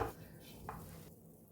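Potato tikki mixture with rice flour and cornstarch being stirred and mashed in a bowl, a few soft scraping strokes close by, with no talking.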